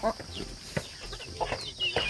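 Chickens clucking over scattered whole corn at feeding time on a farm, a series of short close clucks and squawks with a person talking briefly in the background.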